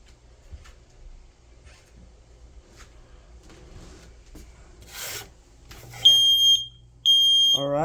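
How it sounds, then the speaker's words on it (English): Household smoke alarm going off during a smoke test, its shrill electronic beeps arriving in two sustained bursts after a stretch of quiet rustling and faint handling noise, loud and close. "The second the smoke alarm beeps."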